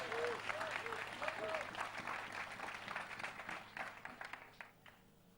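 A French-speaking church congregation claps and cheers in praise, a lively wash of applause that gradually thins toward the end, with a voice speaking over it early on.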